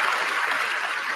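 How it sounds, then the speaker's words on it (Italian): A brief, dense burst of audience applause at a live Italian talk event, steady and fairly loud for about a second. "Allora, applauso più convinto."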